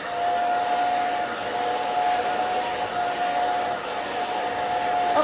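A hair dryer blows steadily on a section of hair, a constant close airy whoosh with a thin high whine running throughout, no pauses.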